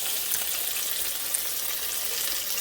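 Bologna slices fry on high heat in butter that is starting to brown, giving a steady, loud, dense sizzle that crackles evenly throughout with no pauses.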